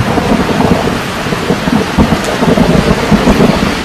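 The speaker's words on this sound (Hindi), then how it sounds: "किसी नदी में आसमानी बिजली गिरने का अद्भुत दृश्य आपने नहीं देखा होगा तो देखिए" Thunder rumbles loudly through heavy rain during a storm as lightning strikes a river, with a constant dense roar of rainfall and low rolling booms.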